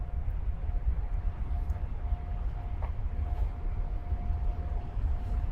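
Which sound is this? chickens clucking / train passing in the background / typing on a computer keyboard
train passing in the background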